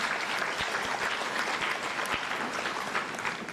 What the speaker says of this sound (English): A kindly clap for her.